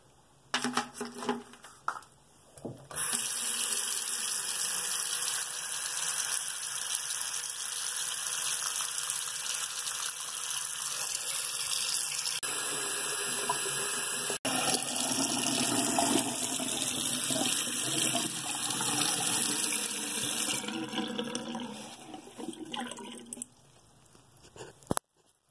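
Tap water runs steadily onto paper, a loud, continuous splashing rush that lasts about twenty seconds with no voices, then stops abruptly.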